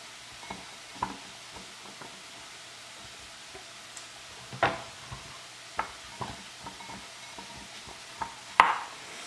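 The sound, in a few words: onions and garlic frying in a frying pan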